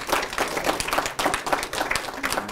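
An audience claps after an art lecture on future studies, a dense burst of applause from a seated crowd filling the room throughout.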